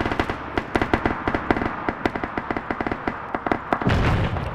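Rapid gunfire rattles through the military shooter Operation Red Wings, a fast, uneven stream of sharp shots and bursts at close to mid distance, ending in a heavier rumbling blast.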